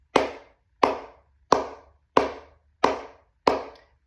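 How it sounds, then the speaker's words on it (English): Six even flamenco palmas hand claps, close and sharp, landing at a steady unhurried pace with short decays between strikes and no talk. "make sure that the sound is even"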